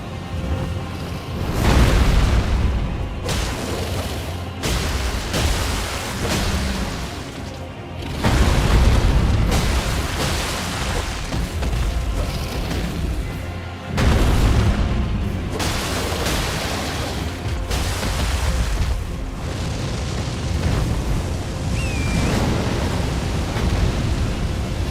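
A dragon in Elden Ring breathes fire in loud, roaring bursts, with rumbling booms and whooshes surging repeatedly over a steady crackling, explosive wash.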